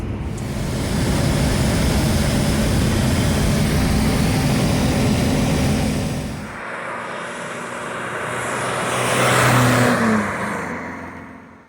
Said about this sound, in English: I'm just warming up the engine right now because I'm gonna do a emission adjustment